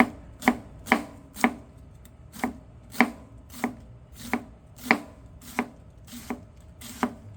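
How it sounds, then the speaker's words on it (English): Knife slicing fennel or apple thin by hand on a cutting board, about fifteen crisp, evenly spaced chops in a steady rhythm, close and clear with no talking. "And then we're just going to slice it really thin."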